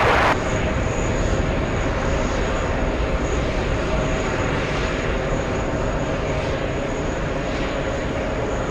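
A heavy Airbus A350 jet at JFK airport gives a loud, steady engine roar that holds constant throughout, near and unbroken.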